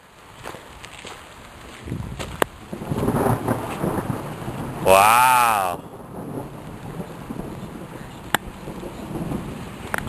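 Thunder from lightning during a foggy evening storm beside a stone wall, a brief rumbling crack rising out of steady wind and rain-like noise, with a person exclaiming just before.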